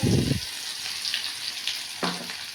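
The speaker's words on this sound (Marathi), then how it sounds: "त्याच्यानंतर बारी येते आपलं अद्रक लसूणची, तर तेही टाकूया" Ginger and garlic go into hot oil already holding cinnamon, cumin and bay leaves for a matar mushroom curry, giving a soft steady sizzle with two brief louder bursts near the start and end, close and alone.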